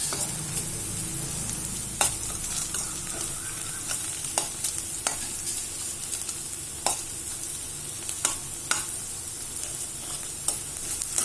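Okra sautéed in a pan until crisp gives a continuous close sizzle, with sharp spatula scrapes and taps against the pan at irregular intervals.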